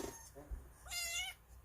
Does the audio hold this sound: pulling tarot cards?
no